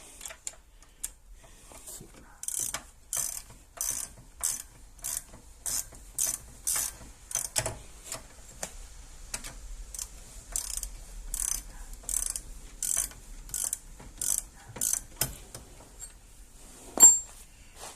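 A ratchet clicks in fast, close bursts while tightening 15 mm rear brake bolts on a 2018 Ford Explorer XLT, short runs of sharp pawl ticks separated by brief pauses, with a faint metallic clink near the end.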